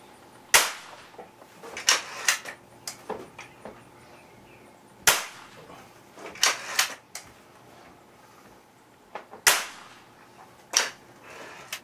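Air Venturi Avenger 1100 air rifle firing RWS Superdome pellets, a series of sharp, loud cracks spaced a second or two apart with quieter mechanical clicks from cocking and loading in between.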